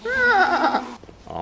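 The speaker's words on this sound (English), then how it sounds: "Oh, sheep." A sheep at a zoo in Albania lets out one loud, wavering bleat close by, followed by a short quieter rustle.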